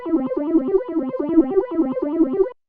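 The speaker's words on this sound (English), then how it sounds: "So this is how the phaser sounds like in track effect." A looped melodic phrase runs through the phaser track effect of a Boss RC-505 MK2 looper, a sweeping, swirling tone repeating in an even rhythm for a couple of seconds before stopping abruptly.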